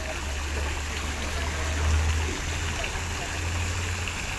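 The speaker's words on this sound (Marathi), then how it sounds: "आणि हा एक आर्टिफिशियल वॉटरफॉल आपल्यासाठी." Artificial waterfall spilling into a fish pond at the Mapro Garden resort in Lonavala, a steady broad rush of falling water with a low hum beneath and a voice talking over it.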